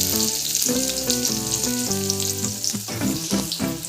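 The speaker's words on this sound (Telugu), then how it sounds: "అది కొంచెం గోలుతుండగానే చిన్నగా తరిగి పెట్టుకున్న ఉల్లిగడ్డ ఇవన్నీ అయితే ఫ్రై కానివ్వాలి" Garlic paste and chopped onions frying in a pan for fried rice, a loud, dense, steady sizzle up close with light stirring sounds and no voices.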